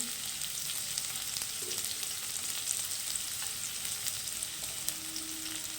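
Chopped onions for a dhaba-style egg tarka frying in a pan, giving a steady, close hiss of sizzling oil with faint crackles and an occasional light stir, constant throughout.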